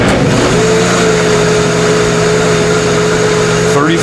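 A Cosori Pro blender runs on its soup setting with a loud, steady motor whine and a sustained high-pitched tone, close and constant, with a faint change near the end.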